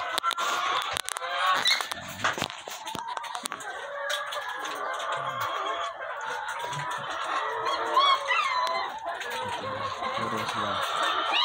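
RKL layer hens on a farm cluck and squawk in a busy flock, overlapping calls rising and falling continuously at close range, with a faint voice now and then.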